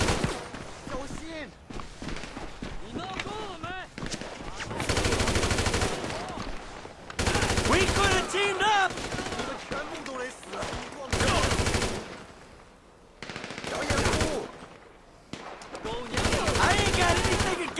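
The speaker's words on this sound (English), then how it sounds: "they're shooting at you, Michael" Sustained machine-gun bursts in Grand Theft Auto V gameplay, several long, loud, rapid-fire volleys alternating with shorter gaps filled with voices and game sounds.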